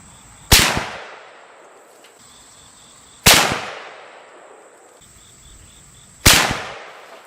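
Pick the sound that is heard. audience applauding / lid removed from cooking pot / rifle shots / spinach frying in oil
rifle shots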